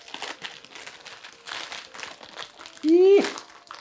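Crinkly plastic packet of Buldak spicy instant noodles being handled and opened, with bursts of crackling rustle throughout and a brief sharp tonal squeak near the end, close up with no clear talk.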